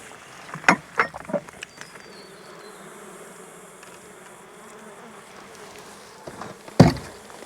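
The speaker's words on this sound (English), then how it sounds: "Certainly full of bees." A steady low hum of buzzing bees in a defensive top bar hive fills the background, with a few sharp knocks and thuds at the start and near the end.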